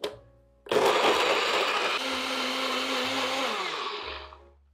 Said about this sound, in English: we're gonna blend this up in the same blender until those dates are completely pulverized